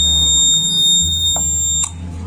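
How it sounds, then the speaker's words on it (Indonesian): An automotive short-circuit auto-cut module sounds a loud, steady high-pitched electronic buzzer tone, continuous for about two seconds before cutting off abruptly, over a low electrical hum. "Selama ada proses konsleting, dia akan selalu mengeluarkan buzzer"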